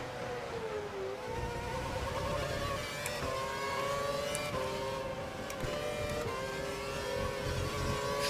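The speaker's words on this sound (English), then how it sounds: "I like to do a lot of engine braking." An F1 car in the video game F1 2012, engine braking and downshifting: a loud, whining engine note that falls and jumps with quick gear changes, continuous and without talk.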